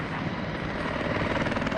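A helicopter in the Battlefield 4 video game roars loud and close, its rotor thumping in a rapid steady pulse over a dense engine rumble.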